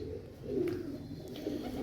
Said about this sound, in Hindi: इस गेड़े का ये कबूतर है।